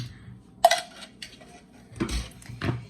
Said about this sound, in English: I'm going to go ahead and put that with my potato into my saucepan here